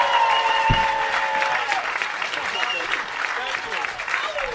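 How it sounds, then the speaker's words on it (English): A comedy club audience in New York applauds as the headline comedian is brought on stage, with dense, sustained clapping and crowd noise filling the room for the whole stretch. "Start clapping up for my man, my brother, the guy you came to see, Chris Distefano."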